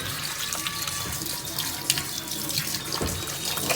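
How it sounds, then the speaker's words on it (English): Tap water running steadily into a sink while hands are rinsed, a continuous close splashing hiss with small shifts in the flow. "we're gonna double wash with that little speck of soap"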